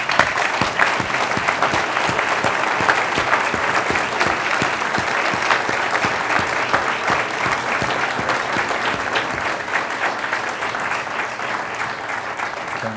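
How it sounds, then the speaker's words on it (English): An audience at a school town hall applauds in a dense, sustained wave of clapping, loud and even for the whole stretch with little crowd noise. "let's give them all a huge round of applause."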